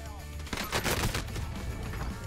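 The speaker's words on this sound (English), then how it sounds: "I want to shoot some people with this tactical rifle" Tactical rifle gunfire in Warzone, a rapid burst of loud close shots over a dense, noisy game background.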